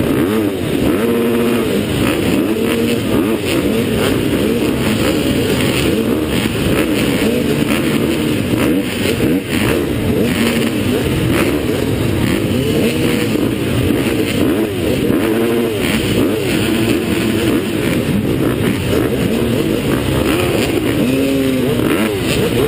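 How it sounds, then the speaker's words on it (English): Several motorcycle engines warm up and rev together before a two-hour off-road round at Llandrillo. Loud, continuous, close engine roar with overlapping throttle blips and rising revs. "warm your engines"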